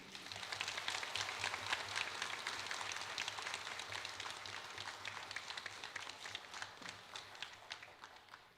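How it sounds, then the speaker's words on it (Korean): Congregation applause greeting a pastor at a church ordination thanksgiving service, a sustained crowd of clapping hands, moderately distant and steady for several seconds. "우리 목사님 나오실 때 큰 박수로 환영하겠습니다"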